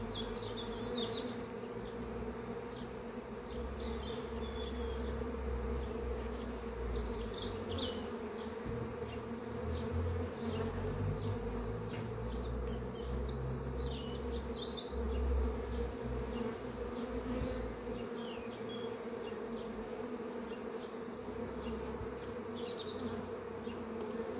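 Honeybees swarm around open beehives during a spring hive inspection, giving a steady, dense buzz that stays close and continuous throughout, with no voices.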